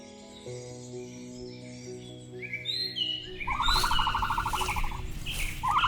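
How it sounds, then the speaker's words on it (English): Migrating birds chirp and tweet overhead in an Amazon swamp setting, scattered high calls that grow into a busier, louder chorus over a low ambient bed. "Overhead, flocks of migrating birds darken the sky, gliding like black streaks across the sun."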